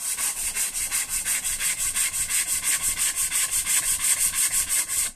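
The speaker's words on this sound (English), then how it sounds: "As you can see, as I'm sanding it," Wood veneer with cross banding being sanded on a classic car, a rhythmic back-and-forth rasping of steady strokes, close and fairly loud, repeating about five times a second for the whole stretch with no talk.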